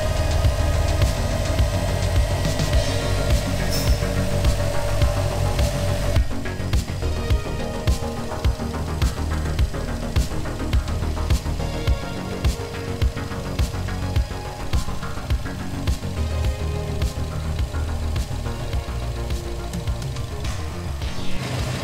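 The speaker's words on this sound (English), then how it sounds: "Fans are on." Radiator cooling fans whir steadily on a 2013 Subaru Impreza WRX turbo with an EJ255 engine, a continuous broadband rush over a low engine hum that shifts in tone partway through.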